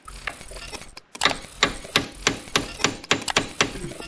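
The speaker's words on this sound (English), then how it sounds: "Dad says you can tap it with a punch and twist it." A punch struck with a hammer against the service meter of a 1939 Caterpillar D4 diesel engine, a run of sharp metallic taps in a steady, slightly uneven rhythm, loud and close.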